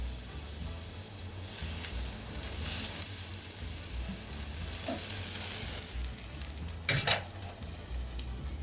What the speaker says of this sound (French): Je viens ajouter une petite quantité d'eau.